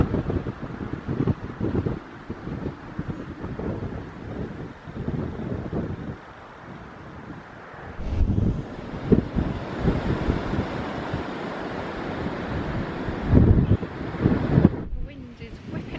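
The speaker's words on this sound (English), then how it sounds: "The wind is whipping around up here." Strong wind gusting across open moorland on Bodmin Moor in Cornwall, a loud continuous buffeting roar with microphone rumble that surges and eases throughout, with no voices over it.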